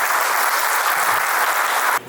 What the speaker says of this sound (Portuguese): Quero pedir uma salva de palmas aí para o Amadeu.